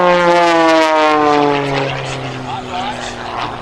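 A propeller aerobatic plane at an air show flies a small orbit around the line, its engine drone loud and steady, fading slightly as it passes, with a commentator talking over it.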